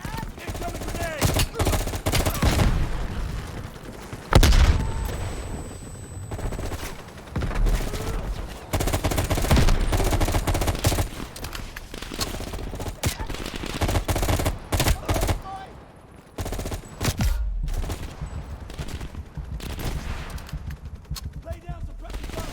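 Heavy gunfire in the video game Black Ops Cold War campaign, with sustained automatic bursts and overlapping shots on a battlefield, under shouted voices and occasional brief pauses.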